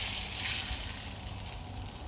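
Hot tempering of oil and curry leaves hits mango pickle with a steady, close, hissing sizzle that holds evenly throughout and slowly eases off slightly.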